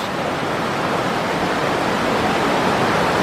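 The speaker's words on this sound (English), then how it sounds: "a waterfall up there" Falling water from a distant waterfall hidden among trees, heard as a steady, even broadband rush that holds constant throughout with no other sounds.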